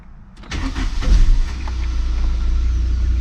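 A car engine cranks and catches around the half-second mark, then settles into a steady, loud idle with a low rumble close by, no voices over it.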